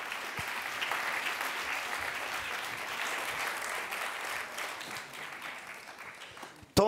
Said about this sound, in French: Et on applaudit très fort nos formateurs et nos candidates.